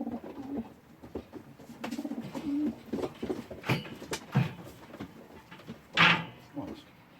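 Stock pigeons, this year's youngsters, coo now and then in an allotment loft, the soft calls scattered among shuffling and knocks, with people talking nearby.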